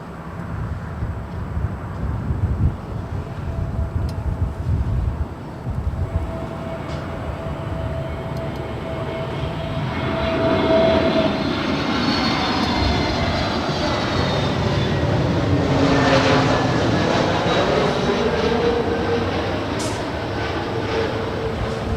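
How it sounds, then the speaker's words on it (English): A Delta Airlines Boeing 737-900ER jet, Flight 822 bound for Orlando, passes at Los Angeles airport with a steady engine roar that swells louder midway, whining tones sweeping across it as it goes by, with no talking. "that is Delta Airlines Flight 822 heading to Orlando, Florida. It's a 737-900ER."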